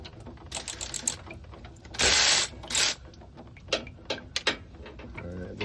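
A ratchet loosens bolts on the transmission pan of a 2012 Ram with a six-speed gearbox, giving quick close clicking runs, then a pair of louder harsh rasping bursts and scattered clicks afterward.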